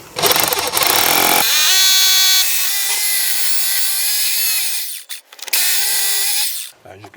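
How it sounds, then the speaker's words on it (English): An SDS drill bores into concrete while a Keter Store It Out Midi 880 litre outdoor storage box is fixed down, a loud, sustained grinding whine with a brief pause before it resumes and cuts off. "an SDS drill absolutely zips through concrete"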